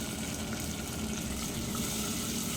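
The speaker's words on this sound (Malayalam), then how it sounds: "നമ്മളിവിടെ കട്ട് ചെയ്ത് വെച്ചിരിക്കുന്ന ടൊമാറ്റോ ചേർത്ത് കൊടുക്കാം അത് ചേർത്ത് കൊടുത്തതിന് ശേഷം നന്നായിട്ട് ഇളക്കി കൊടുക്കാം" Chopped tomatoes for a tomato yoghurt curry stir in a hot frying pan with a continuous, close, even sizzle and no voices.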